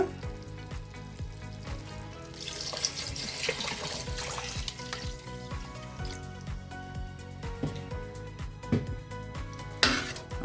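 Water splashes and gurgles into a cooking pot of rice for several seconds, with occasional metallic clinks and a sizzling, bubbling texture; no one speaks.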